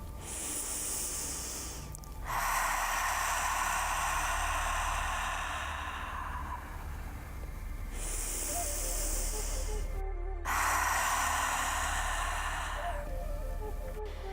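Two long yoga ocean breaths exhaled through the mouth with the throat contracted, each a loud, close, rushing hiss lasting several seconds, separated by brief quieter inhales.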